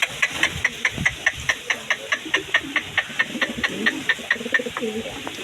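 Pigeons coo from a backyard coop, soft, low, repeated calls mixed with a quick, regular ticking pulse, close and continuous with no talking.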